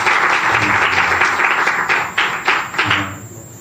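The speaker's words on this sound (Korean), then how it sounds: "우리 111대대 병사들, 우리 선배님들을 위해서 한번 박수 한 번만 더 쳐보겠습니다." Soldiers of an army battalion applaud together at a gathering, steady dense clapping that tapers into a few final bursts near the end.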